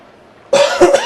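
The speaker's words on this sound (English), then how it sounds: "Sorry if I'm coughing a bit." A single short cough from a person, close and fairly loud, breaking a near-silent pause with a quick second burst.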